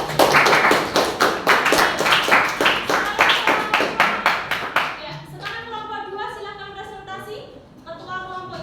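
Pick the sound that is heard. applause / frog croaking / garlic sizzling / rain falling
applause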